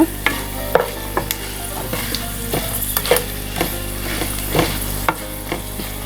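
Garlic tempering sizzling in oil for a curry leaf chutney, a close crackling hiss broken by repeated stirring clicks and scrapes of a spoon against the pan, no voices.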